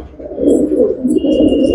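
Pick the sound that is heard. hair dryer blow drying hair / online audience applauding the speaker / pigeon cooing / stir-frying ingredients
pigeon cooing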